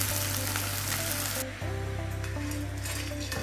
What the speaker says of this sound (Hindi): 1 कप घी के अंदर हम प्याज को गोल्डन ब्राउन करेंगे।